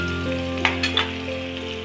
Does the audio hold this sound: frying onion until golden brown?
yes